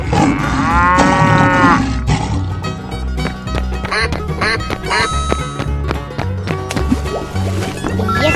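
A cow mooing in a 3D animal slide video game, a drawn-out moo near the start followed by quacking and other cartoon animal noises over upbeat game music.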